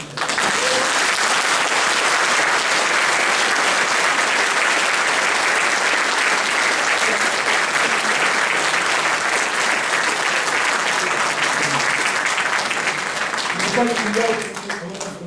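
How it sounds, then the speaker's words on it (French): A town hall audience at a city medal ceremony applauding a volunteer honoree, dense sustained clapping that stays loud and even throughout, with faint voices near the end. "Bravo, on peut applaudir."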